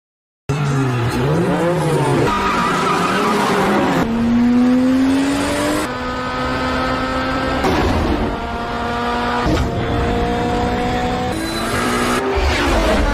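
Street race cars from The Fast and Furious film roar through a race, engines revving up and down in rising sweeps with tire squeals and skids, loud and close, one pass after another.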